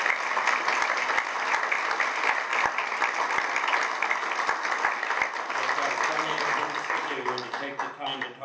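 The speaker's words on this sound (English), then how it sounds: "I would like not a half-hearted round of applause, but a very hearty round of applause for these five." An audience at a Goleta legislative summit gives a long, hearty round of applause. Dense clapping holds steady for several seconds, then thins and fades near the end as a voice begins to speak.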